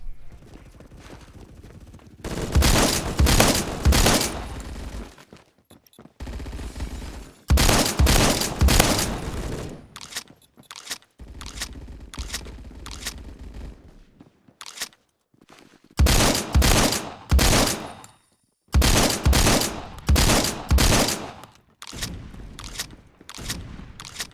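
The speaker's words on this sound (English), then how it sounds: "Here is an example of the shotguns being way too much." Shotgun gunfire in the online shooter Phantom Forces comes in dense rapid bursts of loud blasts, separated by short quiet gaps, repeating through the stretch with no voices over it.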